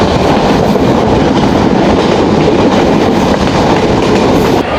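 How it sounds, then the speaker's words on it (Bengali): A passenger train runs along a Bangladeshi railway line near Paksey, a loud, continuous, close rumble of wheels on rails with faint rhythmic clatter throughout. "বেনাপোল এক্সপ্রেস ট্রেনটি এই লাইনটি ব্যবহার করে"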